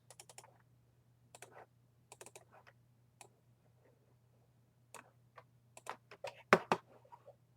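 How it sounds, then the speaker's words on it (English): Scattered computer keyboard typing and mouse clicks while playing Minecraft, sparse at first then denser bursts, close by over a steady low electrical hum. "I'm sorry if you guys can hear my keyboard and my mouse."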